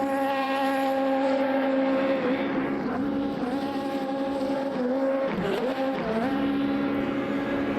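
Race car spinning victory donuts in the Le Mans Ultimate sim, its engine note rising and dipping in repeated waves with faint tyre scrub underneath, steady and close throughout.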